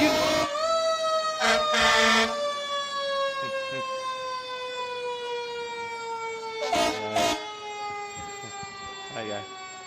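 Wailing fire truck sirens from a Halloween parade in Anoka, Minnesota sweep slowly in pitch, loud and near, with bursts of horn blasts cutting in, and no talking underneath.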